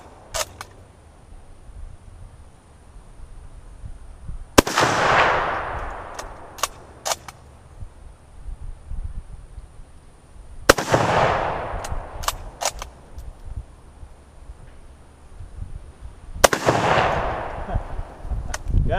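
Three sharp, loud rifle shots from a No4 Mk1 Enfield bolt-action rifle, spaced about six seconds apart, each with a ringing outdoor decay, and light clicks of the bolt being worked in between.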